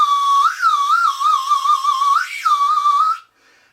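A homemade wooden slide whistle with a drilled bore plays a loud, close, continuous tone that wobbles and glides up and down for about three seconds before stopping abruptly.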